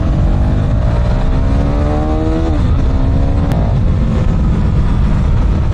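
A KTM motorcycle engine revs loud and close, its pitch climbing steadily, dipping, then climbing again under a constant roar, with no talking.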